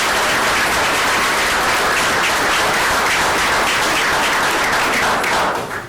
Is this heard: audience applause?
yes